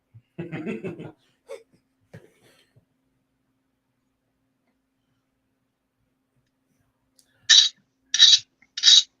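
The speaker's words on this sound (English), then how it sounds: "I was sharpening drill bits." Chainsaw file rasping across drill bits during sharpening, heard as three short, bright scraping strokes near the end, preceded by brief low voice sounds and a long quiet gap.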